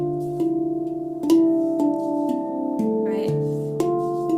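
Soft handpan notes ring out in a simple melody, single tones struck one after another with long sustaining overtones, a few hits landing louder and more accented than the rest, close and clear with no talking.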